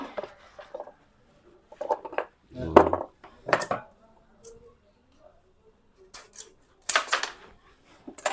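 Thick nickel strip being cut for spot welding 15-amp battery cells, heard as a few sharp metallic snips and clicks spaced apart, with light handling noises between them.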